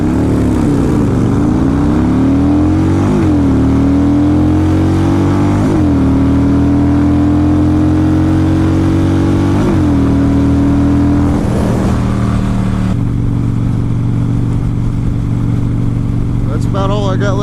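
Motorcycle engine revving and shifting through gears on a ride home down the road, with a loud steady drone rising and dropping in pitch between shifts and continuous wind noise throughout.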